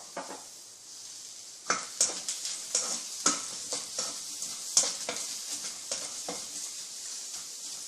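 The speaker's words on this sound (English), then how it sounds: "these onions for masala have been sauteed" Onions sauté in a pan for an egg masala, a constant bright sizzle broken by a rhythmic run of spatula scrapes and taps against the pan, close and fairly loud.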